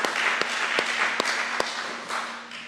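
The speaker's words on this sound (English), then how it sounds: "Yes, you can give Brenda a round of applause." Congregation at a Sunday worship service applauds for a birthday, a steady, full wash of many clapping hands with a few sharper, regularly spaced claps standing out, continuing without talk.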